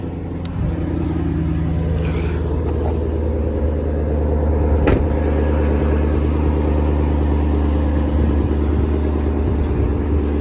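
A 2016 Chevrolet Camaro 2SS V8 sits idling, a deep, steady low rumble with an even burble and a couple of faint clicks, close by and unbroken for the whole stretch.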